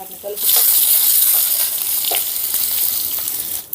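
Mustard seeds, garlic cloves and dried chilli pieces hit hot oil for a tempering, bursting into a loud, dense hiss that holds steadily for a few seconds, close up.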